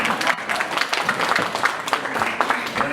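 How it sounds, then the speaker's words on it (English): Steady audience applause fills a conference hall at a media summit, dense clapping continuing loudly and evenly without a break. "Let's give them a round of applause."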